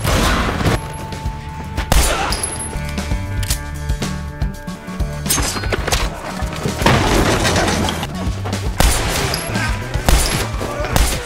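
Action-film gunfight: dense, rapid bursts of gunfire and heavy impacts fill a busy, loud soundtrack from start to finish, with a voice speaking at times over the shooting.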